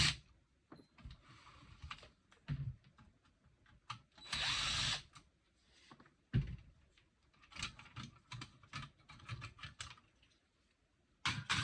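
A power screwdriver whirs in short bursts to back two screws out of an Xbox 360 hard drive tray, mixed with close clicks and rattles of parts being handled.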